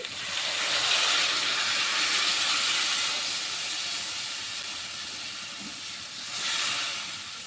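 Water is poured into a hilsa and eggplant curry, making a loud rushing hiss and bubbling sizzle in the hot pan that eases off and then swells again near the end.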